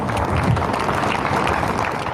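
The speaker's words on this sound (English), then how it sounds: "people taking part in a national clap for Captain Sir Tom Moore." Steady applause from many people fills the air during a national clap tribute for Captain Sir Tom Moore, a dense continuous patter of hands with a faint voice mixed in.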